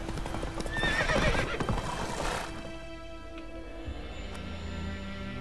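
Roach the horse in The Witcher 3 gallops with loud hoofbeats and whinnies during the first half, then the sound fades to quiet game ambience.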